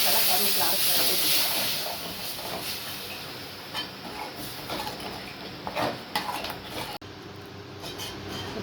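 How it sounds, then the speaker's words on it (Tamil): Ground tomato, chili and curry leaf paste hitting a hot pan, a loud, steady hissing sizzle that eases a little after the first seconds and carries on with small crackles and occasional scrapes. "அரைச்சதெல்லாம் ஊற்றியாச்சு. இது நல்லா கொதி வரணும்."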